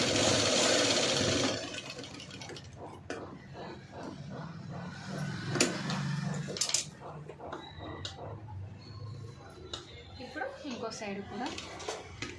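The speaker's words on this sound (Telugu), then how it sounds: "లేస్ అనేది కదలకుండా డబల్ స్టిచ్ చేసుకోవాలి" Sewing machine running in short bursts while stitching lace onto a blouse neckline, mid-level mechanical whirring with brief pauses, following a louder noisy burst at the start; a voice talks over it.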